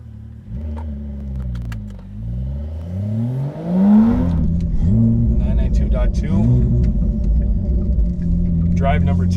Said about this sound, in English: let's go drive it with the full exhaust setup.